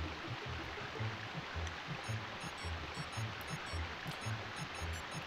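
A waterfall in the Rugrats: Studio Tour video game rushes as a continuous broadband wash of falling water. Some faint, repeated high game tones sit above the roar.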